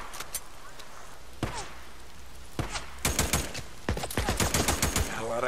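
Machine gun fire in the video game Days Gone: a few isolated sharp shots early on, then rapid clustered bursts of gunfire toward the end, loud and punchy against a quiet background.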